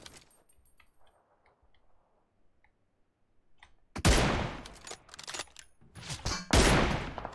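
In the mobile game PUBG Mobile, quiet game ambience gives way to loud, dense bursts of rapid gunfire, one long volley followed by two more close, heavy bursts.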